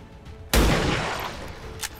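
A single sniper rifle shot in XCOM 2 booms out loud and close, followed by a decaying rumble and a faint sharp hit near the end.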